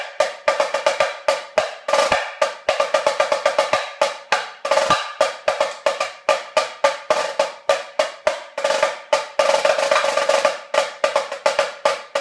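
A marching-style pattern on an LP Micro Snare drum: rapid rolls, flams and crisp accented strokes in quick succession, bright and close with snare wires buzzing.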